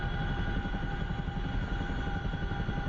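A CH-47F Chinook helicopter taxiing in the DCS flight simulator makes a steady, loud, continuous rotor-and-turbine drone with a constant hum and no talk.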